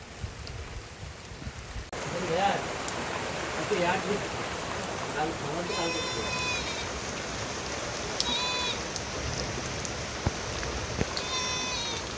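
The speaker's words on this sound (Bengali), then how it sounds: "বন্ধুরা প্রচুর পরিমাণে বৃষ্টি হচ্ছে" Heavy rain falls steadily in the Sundarbans forest, a dense continuous hiss with scattered drips and splashes, while people talk nearby and occasional sharp calls cut through.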